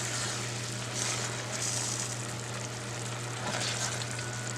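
Food sizzles and fries steadily in a pan over high heat, a continuous hissing crackle with a low hum beneath it and no talking.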